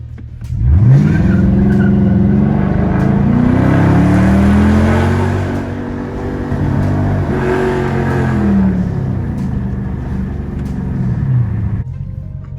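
A 2013 Dodge Charger R/T engine in sport mode revs loudly twice, each rev climbing in pitch and then falling away, with a steady idle rumble between the two and no voices.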